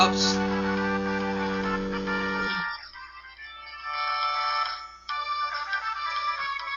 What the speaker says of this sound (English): Yes, that's my ringtone.